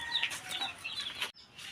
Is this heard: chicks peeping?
yes